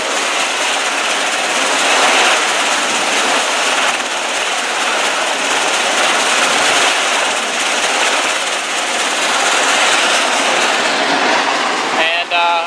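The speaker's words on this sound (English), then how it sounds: "It's loud because of the helicopter." A helicopter on an aircraft carrier flight deck makes a loud, steady, unbroken roar that fills the whole stretch, with a brief change right at the end.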